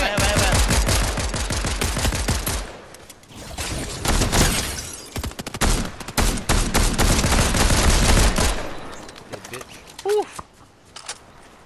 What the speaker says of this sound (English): who's shooting from where?